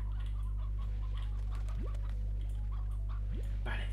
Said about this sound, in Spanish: Más gallinas, por favor.